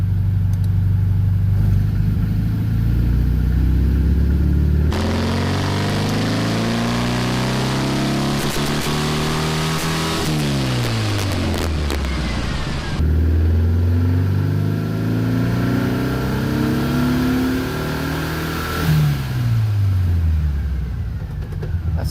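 A 1600cc VW Bug engine revs hard on a Dynojet dyno, loud and close, climbing through long pulls with rising and falling pitch and a gear change partway through, droning steadily the whole time.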